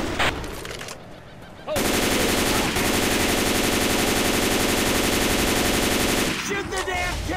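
Sustained, dense automatic gunfire in the Left 4 Dead 2 finale as survivors shoot at the Tank, loud and continuous for most of the stretch after a brief quieter opening, with rapid overlapping bursts and occasional shouted voices.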